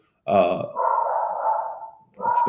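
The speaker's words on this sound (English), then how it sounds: "that's our dog" A household dog barks a few times in a close indoor setting, giving one sharp bark followed by a longer drawn-out bark and another at the end, loud and alone.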